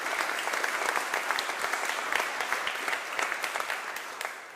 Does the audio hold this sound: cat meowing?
no